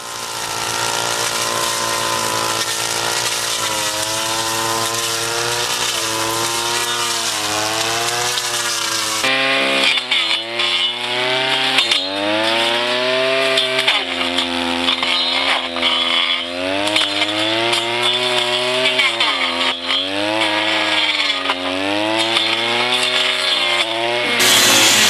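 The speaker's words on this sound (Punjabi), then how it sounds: "ਇਸ ਹੈਂਡੀ ਰੀਪਰ ਨਾਲ ਝਾੜ ਬੂਝੇ ਵੀ ਆਸਾਨੀ ਨਾਲ ਕੱਟੇ ਜਾ ਸਕਦੇ ਨੇ" A handy reaper brush cutter cutting through bushes, its small engine droning loudly and steadily throughout, pitch rising and falling as it works against the growth, with no voices present.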